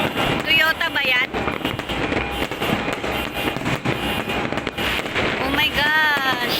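New Year fireworks crackle and pop continuously in dense, loud volleys outdoors, with wind buffeting the microphone and people exclaiming and talking throughout.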